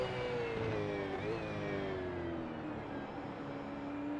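Steady V8 Supercar engine drone with a whining tone that slowly drops in pitch, loud and continuous throughout, like a race car roaring past at speed at Magny-Cours in a sim race.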